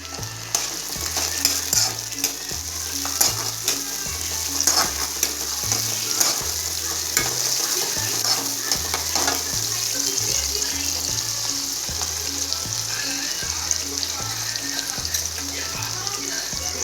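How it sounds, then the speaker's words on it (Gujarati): Tomatoes frying in a pan with steady sizzling and repeated stirring scrapes, close and continuous, with a faint hum of running water in the background. "એની અંદર આપણે એડ કરશું ટમેટા એડ કરી દઈશું."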